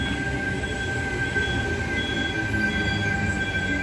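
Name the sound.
Sydney train sets T69 and T70 at Kogarah platform 4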